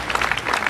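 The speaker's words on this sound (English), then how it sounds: "A round of applause, ladies and gentlemen" Brief burst of audience clapping at the Botswana Sport Awards ceremony, a steady patter of many hands heard for under a second.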